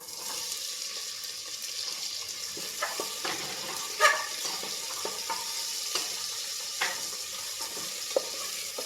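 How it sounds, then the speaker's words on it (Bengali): Cubed onions fry in hot oil for a home curry, giving a steady close sizzle with scattered clicks and scrapes of stirring, and no voices. "পেঁয়াজটা বাদামি বাদামি করে হালকা বাদামি বাদামি ভাজা হবে"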